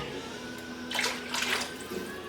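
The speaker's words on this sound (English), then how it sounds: "We're going to also add 1 cup of water." One cup of water is poured into a pan while making bourbon chicken, a short close splashing pour over a steady kitchen hum that comes in a couple of brief bursts.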